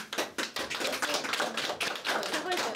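Applause for a World War II veteran's birthday, a crowd clapping in irregular bursts, fairly close, with voices mixed in.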